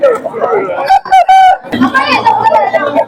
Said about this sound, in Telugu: ఇది చిన్న జాతి పుంజు.